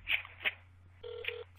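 Phone ringing during a call in Grand Theft Auto V: short electronic tones, two brief beeps followed by a longer steady ring tone, clear and close with faint voice traces.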